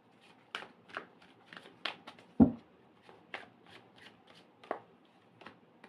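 Tarot cards are shuffled and drawn in a series of crisp, close riffling and flicking bursts, with one sharper slap partway through, all against a quiet background.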